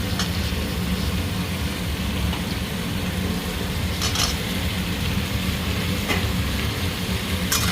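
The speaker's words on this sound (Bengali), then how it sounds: "আলু এত সুন্দর ভাজা হয়েছে, একদম গলিয়ে গিয়েছে আলু।" Potatoes frying in a pan for a home-cooked Bengali fish curry with bottle gourd, giving a steady, close sizzle throughout with a few brief sharper crackles.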